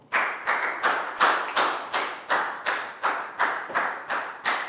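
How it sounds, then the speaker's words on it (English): A classroom of pupils claps in a steady rhythm of about eleven even bursts, close and lively, with no talk over it. "big round of applause for Pangpon"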